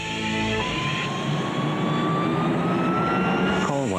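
A jet airliner engine roars loud and steady in a Southwest Airlines advert, a broad continuous rush with rising whine tones running the whole time.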